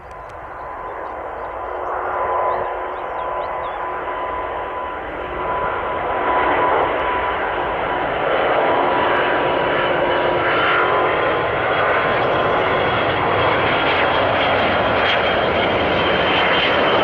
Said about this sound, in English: This Airbus A350 is struggling to take off as it only has one functioning engine and half